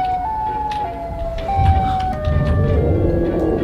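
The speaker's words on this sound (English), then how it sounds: "I hear the sirens." A Roblox game's wailing siren tone steps downward in pitch over a low, rumbling background, loud and steady throughout with a few clicks.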